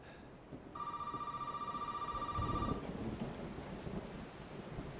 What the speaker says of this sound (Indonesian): Itu siapa sih telepon teleponnya?